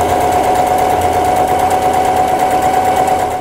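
A sewing machine stitches a straight seam at a 2.5 stitch length with the needle centred, giving a steady, close mechanical whir with a fast pulsing rhythm that runs without a break and no voices over it.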